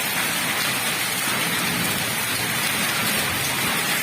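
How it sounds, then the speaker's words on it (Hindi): Heavy rain pours down in a dense, constant hiss, with hail falling in it, loud and steady throughout. "और बहुत तेज बारिश चली है।"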